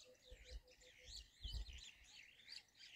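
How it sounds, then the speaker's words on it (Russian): Birds sing during a morning safari in Samburu, with quick high warbling phrases and a few repeated chirps, faint and a little distant, over low rumbling background noise. "Ох, и птички как поют."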